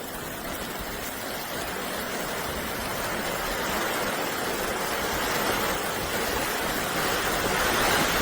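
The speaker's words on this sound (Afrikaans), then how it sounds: "Ek kom hier 'n rivier nou verby my kampplek." River flowing past a campsite on a rainy day, a steady broadband rush of running water filling the whole clip, fairly close and continuous with no speech.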